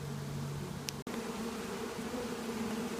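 A honeybee swarm in an open swarm box hums steadily and close up, a dense continuous buzz with a brief knock partway through.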